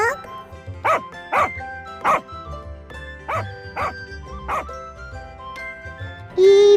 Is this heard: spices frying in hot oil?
no